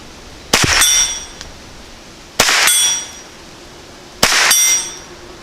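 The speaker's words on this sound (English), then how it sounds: "No, we'll try the gong again." A steel gong target at 50 yards is hit by a GSG-16 rifle with a red dot sight. Three loud metallic clangs come about two seconds apart, and each rings out briefly before fading.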